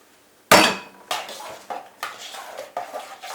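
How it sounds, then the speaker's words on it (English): A spoon stirs egg into a lemon pumpkin pie mixture in a bowl, opening with a sharp clank and then about five rhythmic scraping knocks against the bowl, close and clear. "Stir in the egg."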